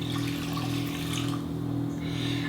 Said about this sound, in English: And now I'm going to add about 2 cups of filtered water.